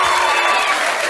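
Dense applause from a studio audience at a comedy podcast taping, a steady wash of clapping that fills the whole short moment with no break.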